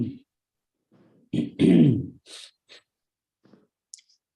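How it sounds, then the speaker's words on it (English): A man clears his throat in a few short, gravelly bursts, close to the mic, with brief quiet gaps and small mouth clicks between. "clearing his throat"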